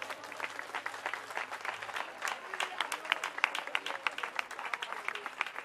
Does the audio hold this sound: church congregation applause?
yes